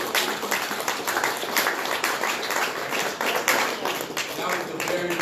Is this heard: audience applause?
yes